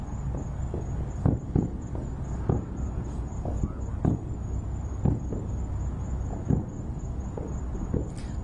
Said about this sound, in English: There's some fireworks over there.